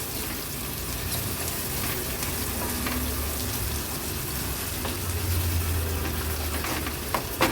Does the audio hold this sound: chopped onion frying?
yes